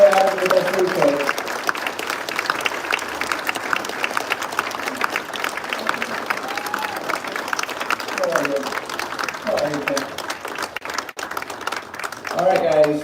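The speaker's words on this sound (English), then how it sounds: "can you give him another round of applause?" Live audience at a celebration of life event applauding in a long, steady burst of clapping and crowd noise, with voices calling out over it now and then.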